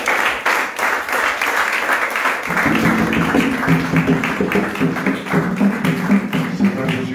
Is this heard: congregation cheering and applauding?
yes